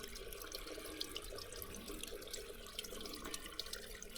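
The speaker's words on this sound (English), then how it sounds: "as you can see from here, there's a lot of water bypassing" Water runs and trickles past a feed pipe in a stone well, a faint, steady burble with small splashy flecks heard from nearby.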